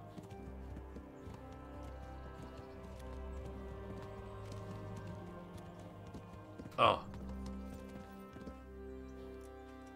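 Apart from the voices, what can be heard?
horse hooves clip-clopping, from a video game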